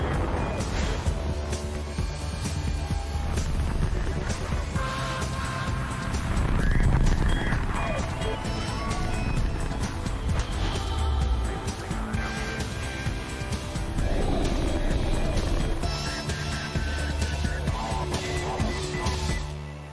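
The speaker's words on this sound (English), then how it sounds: "liftoff of Falcon 9." A SpaceX Falcon 9 rocket lifts off with a broad, rumbling roar that swells and crackles unevenly, loud and continuous with no talk over it.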